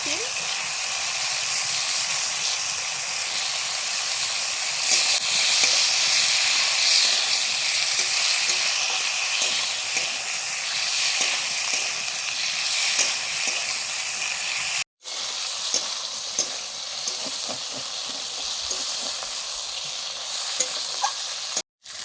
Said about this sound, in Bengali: চিংড়ি মাছ ভাজা হতেই দিয়ে দিচ্ছি সবজি সবজি আলু বেগুন